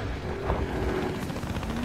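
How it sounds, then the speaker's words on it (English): Enemy helicopter in the video game Battlefield: Hardline, a steady rotor and engine drone filling the scene with dense mechanical rumble and faint gunfire-like texture, no talking. "Is that enemy helicopter?"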